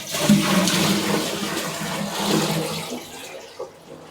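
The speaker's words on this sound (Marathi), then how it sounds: "अगोदर पाणी भरून घेऊया कारण की आपला ड्रम खाली झालेला आहे" Water pours into an empty household storage drum with a steady, fairly loud rushing gush that swells and eases slightly, and no voices are heard.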